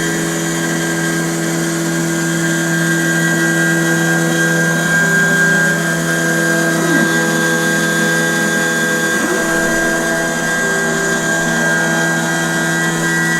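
A milling machine cutting polycarbonate, with a steady whining hum and sustained tonal ringing from the spindle and cutter, continuous and close throughout with no talk.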